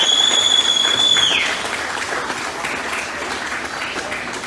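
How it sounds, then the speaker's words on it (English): An audience applauds the judges at a drag racing trophy presentation, sustained clapping with a sharp whistle in the first second before the applause settles into a steady wash. "let's have a round of applause for our judges"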